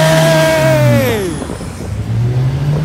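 A Nissan R33 GTR engine drives past nearby during a spring breakfast run, rising to a loud steady drone, then sweeping down in pitch as it passes before another engine holds a steady note.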